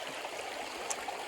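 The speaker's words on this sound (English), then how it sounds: "This kind of leads in a couple creeks going into the river." Creeks at Red River Gorge run into the river with a steady hiss of flowing water, a continuous gentle rush heard close by with no voices.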